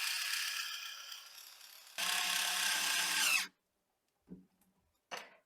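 An electric screwdriver drives M3 by 16 screws into the front holes of an LDO Rook MK1 3D printer frame, with two loud close whirring bursts, a pause, then brief clicks and taps.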